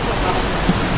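Water from a waterfall pours into a natural pool at Malico, on the Pangasinan–Nueva Vizcaya mountain route, giving a loud, close, constant rushing roar.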